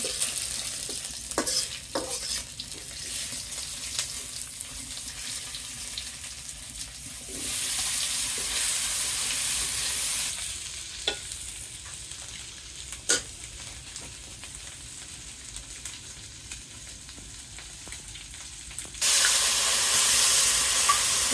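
Bay leaf and cumin seeds sizzling in hot oil in a Bangladeshi village kitchen, a steady close frying hiss with sporadic sharp crackles and clinks, growing louder in bursts partway through and again at the end.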